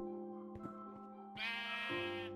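A sheep bleats in the Minecraft video game, two drawn-out, wavering bleats heard close and fairly loud over a quiet background with no talking.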